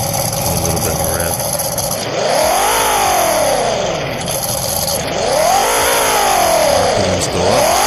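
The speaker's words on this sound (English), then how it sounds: "So, give it a little bit of a rev." A car engine in the Roblox game Greenville revving repeatedly, pitch climbing and falling in smooth arcs over a constant loud drone, close and without pauses.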